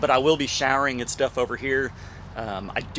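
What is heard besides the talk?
No everyday noises stand out.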